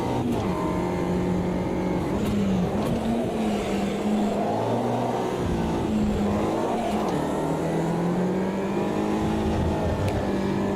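A steady race car engine in Automobilista 2 drones and shifts pitch as it revs up and down, with faint tyre noise, continuous throughout.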